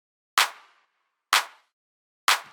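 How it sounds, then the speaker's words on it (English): Three layered clap samples in FL Studio for a tech house track, each a sharp, bright hit with a short reverb tail, evenly spaced about a second apart, close and alone. "So clap sounds like this."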